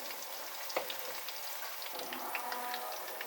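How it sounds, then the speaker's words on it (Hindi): Onions frying in a pot for qeema biryani give a faint, steady sizzle with soft, light crackles throughout, quiet and without talking. "अब प्याज देखिए हमारा हल्का गुलाबी हो गया है"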